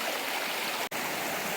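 Loud, constant broadband rush of the North Umpqua River flowing nearby in the shade along its bank, a steady roar of water with one brief dropout in the middle.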